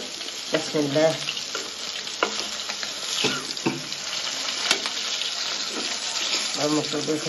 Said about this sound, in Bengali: মাছটি সুন্দর করে ভাজা হয়ে গেছে, উল্টে পুলে দিচ্ছি